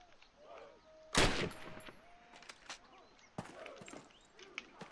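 Call of Duty (2003) rifle fire, one loud close shot from the hip, then a second shot aimed down the sights, with faint battlefield clatter and distant sounds between them.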